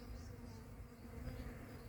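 Faint, steady buzzing of many honeybees at a hive in March, a continuous hum with no pauses.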